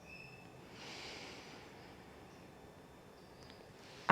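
A slow, deep inhale through the nose during a core breathing exercise, a soft airy rush that rises and fades over a few seconds, close and quiet, ending with a brief louder bump.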